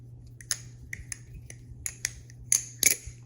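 A TheOne Alien balisong knife is flipped, making a scattered series of light metallic clicks and taps close by, irregular and quick, ending with a couple of brighter clacks.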